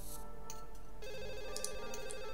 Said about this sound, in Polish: Znowu telefon!